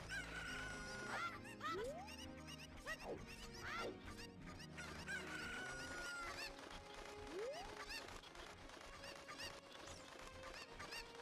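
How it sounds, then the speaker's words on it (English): Chickens in Ocarina of Time Randomizer, with repeated clucks and rising squawks and a crowing call among game tones, fairly faint and continuous over about eleven seconds. "We got chickens here."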